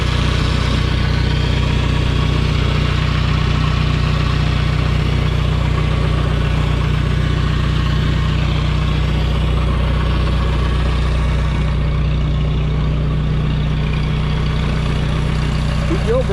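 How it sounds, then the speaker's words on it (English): A vintage tractor engine idles steadily nearby, a loud, continuous low-pitched throb with even vibration throughout, while people talk faintly over it. "Beautiful tractor."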